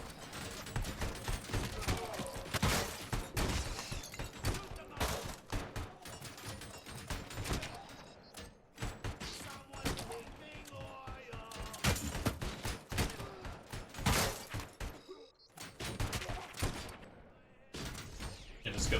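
Repeated gunfire in the first-person shooter Robocop: Rogue City, loud bursts of shots and impacts running steadily through the scene, mixed with game noise and occasional talk.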